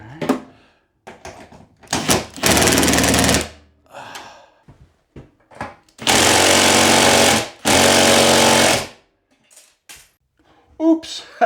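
A power tool drives bolts into an inverter mount for an EG4 6000XP off-grid setup, loud hammering bursts of a few seconds each separated by clanks and handling noise, with some talk between.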